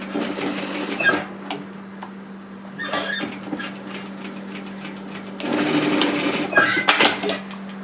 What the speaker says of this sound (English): you just flip it over and just sew a short way into that facing piece